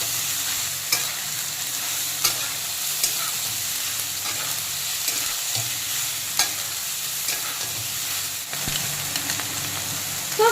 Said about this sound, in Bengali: সয়াবিনগুলোও কিন্তু বন্ধুরা হালকা করে ভেজে নিচ্ছি